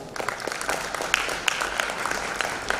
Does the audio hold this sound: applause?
yes